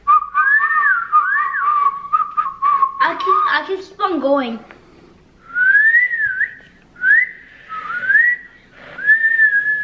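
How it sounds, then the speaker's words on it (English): Children whistle simple rising and falling tunes while learning, a shaky tone near at hand, with a burst of chatter and voices in the middle before several more short whistled phrases. "I'm not the best whistler, but I can do a little bit."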